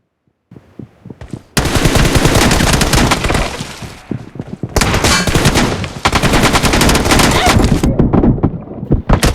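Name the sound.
gunfire in video game BGMI / PUBG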